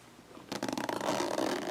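A zipper on a fabric tote bag is drawn closed up close, one quick ratcheting pull of rapid rough clicks that starts suddenly after a quiet moment.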